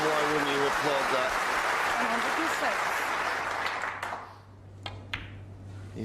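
Applause from a snooker audience for a century break, dense clapping under a commentator's voice that fades out, leaving a quieter room with a few faint ball clicks.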